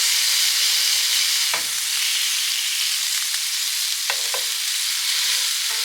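Seasoned slider patties for Puerto Rican jibaritos sizzle and crackle steadily in a hot pan over medium heat, a close, constant frying hiss with a few brief scraping stirs.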